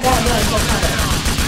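Gunfire in Grand Theft Auto 4, a dense, continuous burst of shots with no clear gaps between them, loud and close throughout, with no talk over it.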